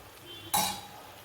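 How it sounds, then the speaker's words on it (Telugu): A spoon stirs spice masala into curry in a pan, giving one brief scraping clink that stands out over quiet background with no voices. "ఇలా మనం వేసిన మసాలా అంతా ఇలా కలుపుకోవాలండి"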